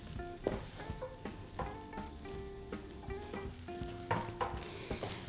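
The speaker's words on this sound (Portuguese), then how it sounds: "vou continuar mexendo até sair todos esses pontinhos brancos de farinha de trigo" Savory snack dough made with wheat flour being stirred in a pan over low heat, with repeated scraping and thudding of the spoon against the pan and a faint sizzle, close and steady.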